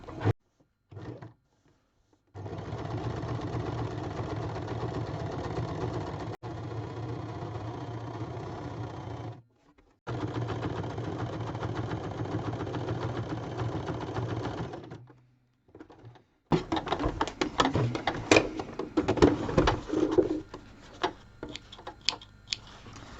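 Sewing machine running free motion embroidery around the edge of an iris on wool, in several long bursts of fast, even mechanical stitching separated by pauses, ending in a choppier stretch of stop-start clicks and rattles.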